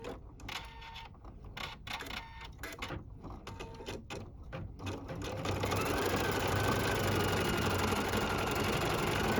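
A Viking Ruby 90 embroidery sewing machine stitching an applique patch, starting with a few irregular stops and starts before settling into a steady, loud, continuous rapid needle chatter with a mechanical hum.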